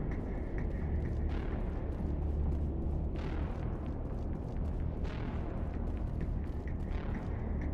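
Gunfire in the Mass Effect video game, heard as a dense, continuous barrage of booming shots and bursts with sharper cracks around the middle and later on, loud and steady throughout with no talking.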